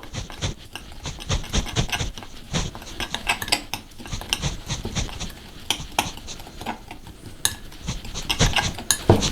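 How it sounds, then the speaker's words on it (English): Homemade Cajun seasoning spices are mixed with a spoon in a bowl, giving steady, busy scraping and clinking that runs through the whole stretch at close range. "And then all we need to do is give it a mix up."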